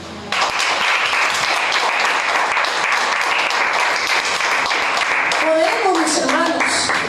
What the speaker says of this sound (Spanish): Yo le invito a que le dé un aplauso al Señor.